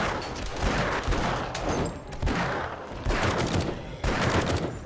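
Rapid bursts of 7mm rifle gunfire in the survival game 7 Days to Die, loud and near, firing in dense repeated volleys with brief gaps between strings of shots, no voices over it.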